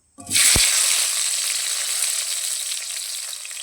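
Chopped tomatoes hit hot oil in a pan with a sudden loud sizzle that settles into a strong, steady frying hiss close by, with no talking.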